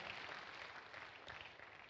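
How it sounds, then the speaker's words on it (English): A church congregation claps together through a service, a dense, continuous patter of many hands filling the room at a steady level with no clear breaks. "Clap your hands unto the Lord."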